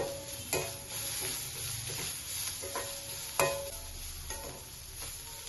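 Sliced green chillies sizzle in hot oil for a raw banana fry, with a steady crackling fry broken by sharp scrapes and clatters of a spatula stirring the pan every second or so.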